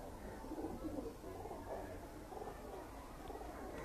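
A high-flying breeder male pigeon coos in low, soft, rolling murmurs, faint and repeated over a steady background hiss.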